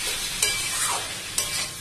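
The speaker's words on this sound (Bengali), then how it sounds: "এবার আমি চিংড়ি মাছটা একটু দিয়ে দেবো।" Prawns sizzle in a hot pan with fried onions while a utensil stirs them, a bright continuous crackle broken by two sharp scraping strokes.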